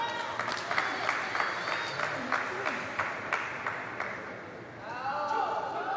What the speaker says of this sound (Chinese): 听到掌声就知道了